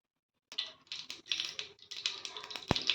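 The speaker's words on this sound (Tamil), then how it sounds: "கடுகு பொரியட்டும், நம்ம பார்க்கலாம்." Mustard seeds pop in hot oil while being tempered for a ginger pickle, a dense, steady crackle of sharp little snaps that starts abruptly and continues close up.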